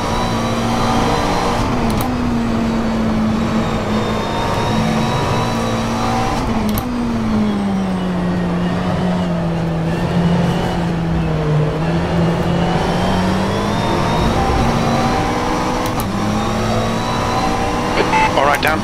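McLaren 720S GT3 race car engine in the rFactor 2 video game at Mid Ohio, droning steadily with pitch rising and falling through gear changes and corners, loud and continuous for the whole stretch.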